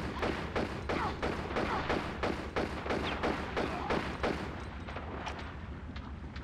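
Gunfire aimed at the player in Tomb Raider: Chronicles, a steady run of about a dozen rapid, evenly spaced shots that thins out toward the end, moderately loud, with no talk.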